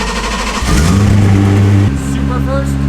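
A BMW E46 drift car with a B58 engine on ethanol with raised boost accelerates, giving a loud, near engine roar that climbs in pitch and then shifts, with people talking over it.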